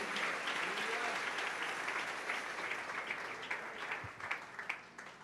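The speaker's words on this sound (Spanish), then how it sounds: "Dale ese aplauso al Rey en esta preciosa y gloriosa noche." A church congregation applauds steadily during an evening worship service, a dense, sustained wash of clapping that slowly tapers over a few seconds, with faint voices mixed in.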